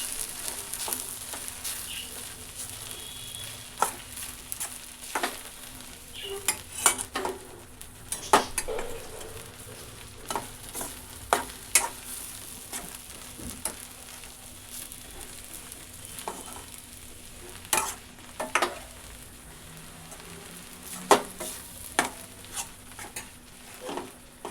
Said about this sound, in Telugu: దాన్ని వేసి మిక్స్ చేస్తూ ఉన్నానండి ఇప్పుడు.